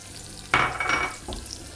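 Garlic, chilli, cumin, smoked paprika and chilli flakes hitting a hot pan with a sudden close sizzle that swells, then settles into a softer crackle.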